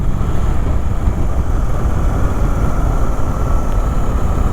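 Suzuki GSX-8R motorcycle engine lugging at low speed in fourth gear, a dense, continuous low rumble with steady loudness throughout, close and alone with no talk.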